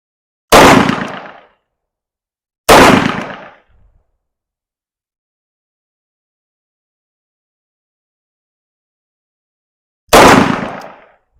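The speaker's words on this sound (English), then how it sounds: "The first 3 shots are going to be double action, followed by some single action." Taurus 692 revolver fires three sharp, loud shots outdoors, two close together and a third after a long pause, each cracking report decaying quickly into silence.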